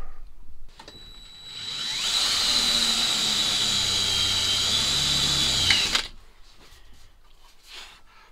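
Power drill boring holes through a Renault Trafic van panel, first with a small pilot bit and then a larger one; a steady, loud high whine runs for about four seconds, close up, with no talking.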